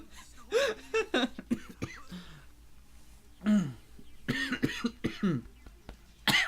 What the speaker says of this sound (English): With real life coughing sound effects.